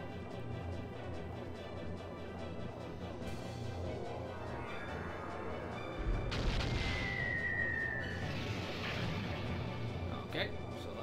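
Moonstone cannons fire in Skies of Arcadia Legends as a trio of booming blasts over a dense, continuous game soundtrack, with a sharp swell of impact noise and a whistling streak standing out in the middle.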